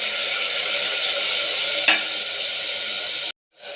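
Chopped tomato goes into browning onions in a pan for a hasi togari kaalu saaru, and a constant close sizzle carries on with one brief scrape midway before the sound cuts off abruptly.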